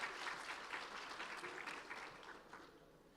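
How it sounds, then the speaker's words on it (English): Audience applause for the world and junior world chess champions at a youth conclave in India, a steady wash of clapping from a crowd, moderately faint and continuous throughout. "A huge round of applause to both of them."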